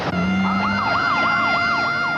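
An ambulance siren wails loud and close in a war-zone setting after a high-explosive blast, its rising and falling tone cycling repeatedly over a steady engine hum.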